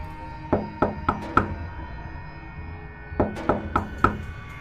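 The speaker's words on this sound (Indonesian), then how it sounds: "Suara ketukan pintu terdengar beberapa kali dari pintu depan." Two sets of four sharp knocks on a front door, evenly spaced and fairly close, with a pause of about two seconds between the sets and no talking.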